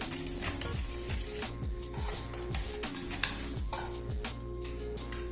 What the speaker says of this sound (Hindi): अच्छी तरह इसको मिक्स कर लेना है।